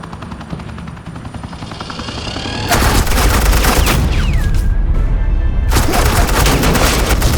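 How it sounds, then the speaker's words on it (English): Suppressing gunfire in Batman: The Enemy Within, a dense, loud stream of rapid automatic shots over a helicopter-like rotor drone, building from quieter rumble into sustained heavy fire with brief whizzing streaks and voices faintly underneath. "suppressing fire."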